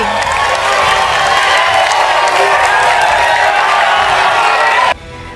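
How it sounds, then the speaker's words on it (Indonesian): An audience at a regency candidates' debate in Kutai Kartanegara bursts into loud applause mixed with cheers and whoops, a dense sustained roar that cuts off abruptly near the end. "kita berikan tepuk tangan yang meriah untuk seluruh calon bupati"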